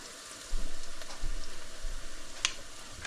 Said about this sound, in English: Then the onions are still frying.